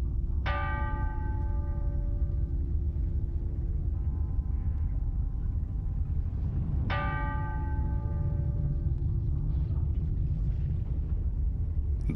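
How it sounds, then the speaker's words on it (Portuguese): Church bells tolling across a city during the 1755 Lisbon earthquake, two loud bell strikes with long ringing decays over a constant deep rumble. "todos os sinos das igrejas na cidade começam a tocar"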